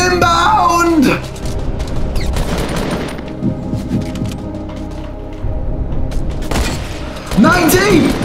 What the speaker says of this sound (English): Oh no, they've got rockets. Rockets inbound.